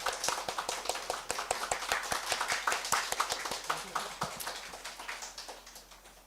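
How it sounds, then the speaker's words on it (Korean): A church congregation claps together in welcome during a Sunday service, sharp, closely spaced hand claps that start brisk and loud, then gradually thin out and fade toward the end. "잘 오셨습니다 라고 큰 박수"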